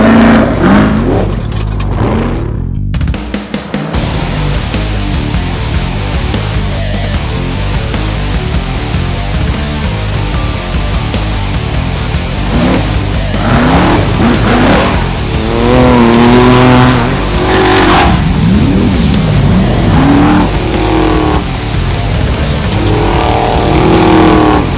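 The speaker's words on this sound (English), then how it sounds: "Now the trophy trucks and desert cars are about to go out." Trophy trucks and desert race cars at King of the Hammers roar past in a loud, sustained stream of engine noise, revving and shifting up close, with rising and falling pitch as vehicles pass.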